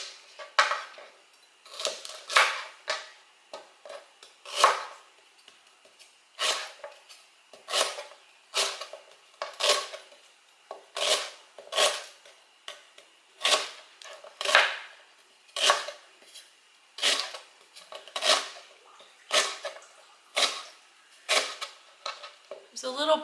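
Rhubarb stalks being cut on a board, a long run of sharp, regular knife chops heard close and clear with short gaps between strokes.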